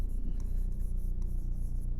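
A pen writing an equation during a Class 10 maths lesson on arithmetic progression, a steady faint scratching under a low background hum, close by.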